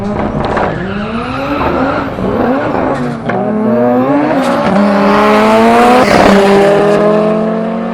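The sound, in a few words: Honda-engined drag car accelerating at street drag race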